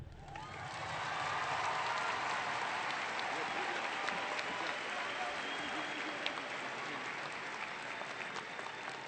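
Graduating class of 2023 at a high school graduation ceremony breaks into sustained applause and cheering, a dense roar of clapping from a large crowd that holds steady throughout.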